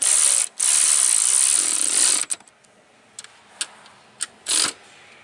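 Ratchet tightening front strut bolts on a Nissan Versa: a long loud run of rapid clicking, a brief pause, another sustained burst, then scattered short clicks and one final burst, close up with no talk.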